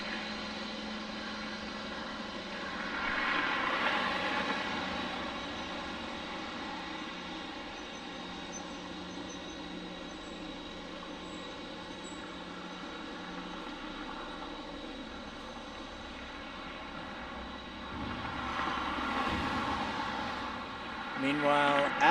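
A Boeing 717 at Detroit airport gives off a steady engine whine and rumble, swelling louder near the start and again toward the end, with faint voices underneath.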